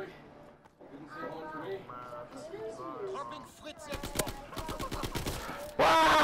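Rifle and automatic fire in Call of Duty: WWII, rapid sharp shots bursting through the second half, loud and close, with a voice talking over the earlier part and a loud blast at the very end.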